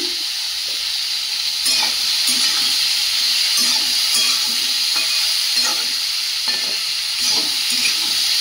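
Spices with turmeric and salt frying in a pan, heard as a steady close hiss of sizzling oil broken by a series of stirring scrapes and clinks at irregular intervals; no one talks.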